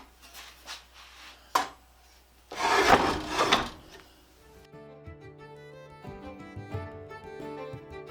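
A Foley Belsaw SR1000 retoother cranked through by hand, giving rasping, scraping metal passes with a sharp click, then a sustained ringing, tonal hum.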